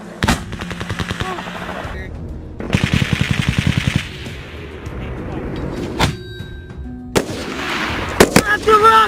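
Weapons fire in bursts: rapid machine-gun rattles alternating with single sharp gunshots and heavier booms, loud and close, with shouted voices in between.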